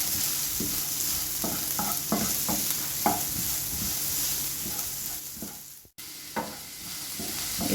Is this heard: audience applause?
no